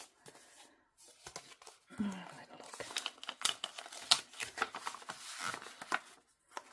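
Paper envelope holding oracle cards being torn open and handled, a close run of crinkling, tearing and rustling bursts of varying loudness, with soft speech mixed in.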